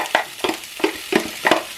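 Onion frying in a little oil in a home kitchen pan, with a soft sizzle under steady, rhythmic stirring scrapes that come about three times a second, close and moderately loud, with no talk.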